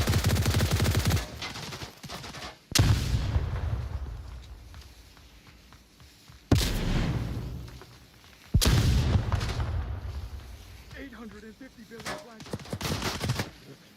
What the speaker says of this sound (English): There are a lot of flashbangs, I will say.